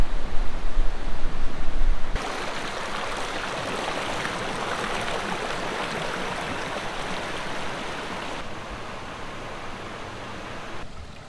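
Chitradhara waterfall in Bastar, Chhattisgarh pours in a steady, broadband rushing roar, heard from a distance at the top with a louder, buffeted start and no voices.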